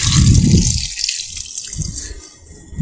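Running water splashes as a batch of prawns is rinsed, with a gushing, sloshing stream that surges at first, eases, then swells again near the end.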